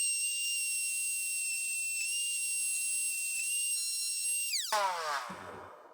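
Milwaukee M12 cordless rotary tool with a cutting wheel, a high steady whine holding pitch for several seconds, then dropping sharply as it bites into a metal crimp collar on a CV axle boot.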